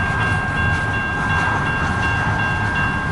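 A CN westbound long-haul manifest mixed freight train rolls past in a continuous dense rumble, loud and close, with steady high tonal whines from the wheels and faint rhythmic clatter, no voices.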